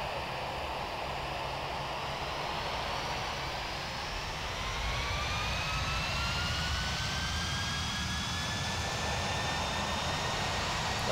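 Jet aircraft engine held at full throttle while parked in Flight Simulator X, a steady, loud roar with rising whine tones that builds slightly partway through and runs unbroken throughout, with no talk.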